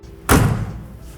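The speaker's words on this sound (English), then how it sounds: "Listen to how solid this door is now that I have everything adjusted and not loose." The door of a 1967 Camaro shuts once with a single close, heavy, solid thud that rings briefly and fades, with no voices over it.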